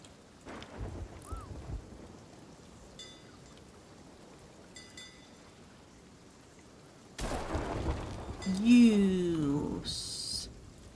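Rain and thunder roll through a storm at sea in the Sea of Thieves video game, a steady rumbling wash that swells louder partway through, while a few voices talk over it.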